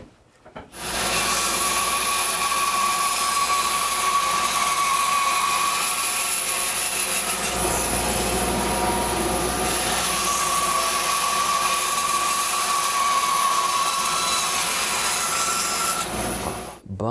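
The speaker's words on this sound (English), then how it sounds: "the first step we're going to do is go to the bandsaw and cut out our blanks" A bandsaw cuts wood blanks for a two-piece hollow turned vessel, giving a loud, steady whine and rasp that runs almost unbroken for about sixteen seconds, with no talking.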